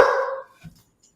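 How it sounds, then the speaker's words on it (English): One loud, close dog bark that trails off quickly, followed by a faint short sound and then silence. "This Bentley is barking at you."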